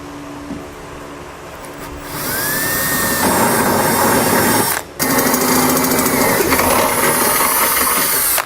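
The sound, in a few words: power drill with half-inch bit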